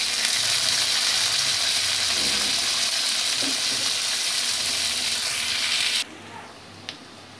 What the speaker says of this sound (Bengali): একটু ভাজা হয়ে গেলে দিয়ে দেবো পেঁয়াজ কুচিটা।